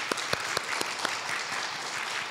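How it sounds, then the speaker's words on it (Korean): Congregation clapping to welcome newly appointed deacons during a Korean Sunday church service, soft steady applause with a few louder individual claps near the front. "박수로 환영해 주시면 감사합니다"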